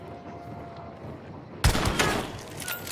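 A single loud gunshot from a video-game headshot during a bounty hunt cracks out midway through, leaving a lingering rumbling tail over steady background ambience.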